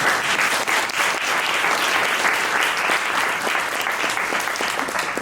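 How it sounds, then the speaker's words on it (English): A lecture audience breaks into warm applause for speaker Michiel Korthals, loud, dense and steady clapping from a full room with no pause. "give a warm round of applause for Michiel Korthals"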